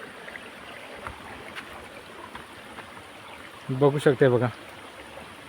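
A monsoon stream at a Konkan kund flows with a steady, fairly quiet broadband wash of water, and a voice speaks briefly over it near the end.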